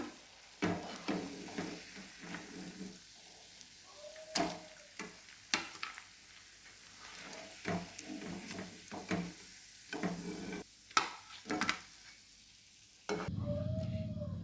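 Egg bhaji, batter-coated eggs, frying in hot oil with a steady sizzle, broken by repeated close clicks and scrapes of a spoon against the pan, ending in a louder burst of bubbling.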